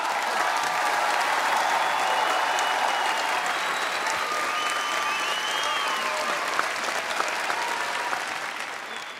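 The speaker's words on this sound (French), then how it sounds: "les applaudissements ont été préenregistrés." Pre-recorded applause played at a comedy show at the Zénith in Paris, a dense, continuous wash of clapping from a large crowd that holds steady for several seconds before slowly fading.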